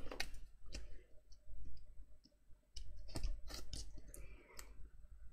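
Backing being peeled off double-sided tape for a hardcover book project, close, quiet crackly tearing and clicking in short irregular bursts with brief pauses.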